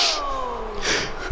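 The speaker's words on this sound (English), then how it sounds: "That's a sneeze." A sneeze in the wrestling video game WWE 2K18, a single short burst near the end of the moment after a faint, fading background tone.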